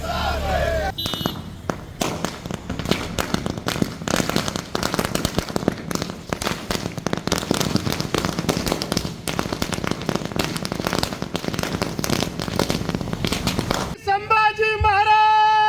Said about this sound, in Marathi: फटाके वाजवून कार्यकर्त्यांनी उमेदवारीचे स्वागत केले